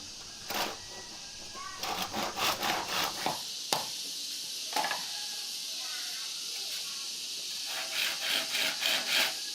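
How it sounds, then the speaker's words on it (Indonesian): A hand saw rasps through a palm frond stalk, cutting 40 cm lengths in quick rhythmic back-and-forth strokes, pausing midway, then resuming, close and clear. "dipotong-potong sepanjang 40 cm dengan menggunakan gergaji"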